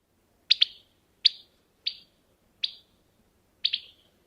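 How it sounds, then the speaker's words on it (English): A Carolina wren gives an alarm call of five sharp, bright chip notes, some doubled, spaced about a second apart against a quiet background. "And then here's a wren alarm call."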